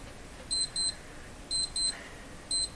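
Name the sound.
alarm clock beeping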